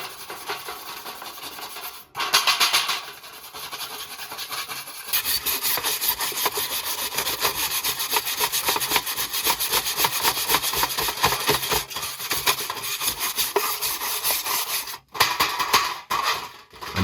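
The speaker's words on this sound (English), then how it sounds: "use a wire brush to scrub it smooth and clean" A wire brush scrubs a tin can to take off paint, giving a long, continuous, close scratching rasp with quick back-and-forth strokes and brief pauses, heard alone.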